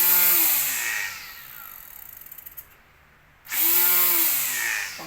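A battery-powered portable grass cutter with two batteries runs steadily with a whirring buzz, briefly cuts out to near silence, then spins back up loudly and holds its pitch to the end.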